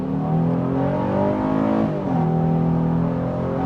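A 2025 Honda Ridgeline Sport accelerates on a multi-lane road, heard from inside the cabin as a steady engine hum that climbs in pitch, dips briefly at a gear change and rises again, with no talking.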